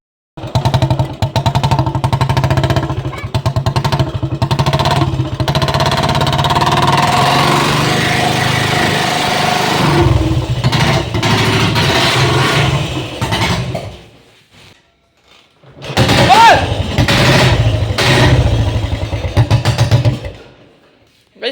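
An old Royal Enfield Bullet single-cylinder engine thumps loudly after a kick start, running steadily with a brief drop to near silence before it roars again.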